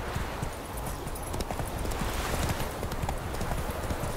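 Roach, Geralt's horse in The Witcher 3, gallops with a quick, continuous clip-clop of hooves, fairly close and steady throughout, with a faint background bed.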